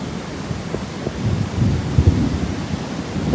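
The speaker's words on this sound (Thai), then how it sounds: "ฟ้าร้องเลยทีเดียว" Thunder rumbles low and distant over a flooded area in Sena, Ayutthaya, Thailand, with a continuous deep roll and a few brief swells amid wind and rain noise, and no voices.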